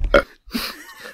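A single short, throaty burp voiced by a performer at an improvised table read, close and loud, followed by brief quiet vocal sounds.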